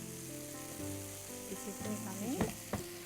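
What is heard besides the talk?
stirring peas and paneer frying in a pan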